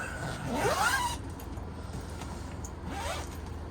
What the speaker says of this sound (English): Each one of the windows has double zippers on it that you can unzip